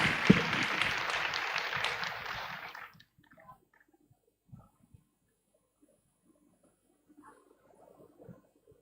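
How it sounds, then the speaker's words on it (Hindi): Audience applause in a hall during a group gathering, a dense burst of clapping lasting under three seconds before cutting off, followed by near silence with a few faint scattered noises. "ताली तो बजाइए एक बार सबके लिए।"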